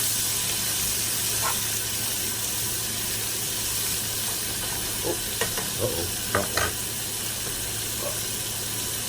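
Peppers added to a hot pan for rasta pasta give a steady hiss, with several short stirring knocks and scrapes in the second half and no talking.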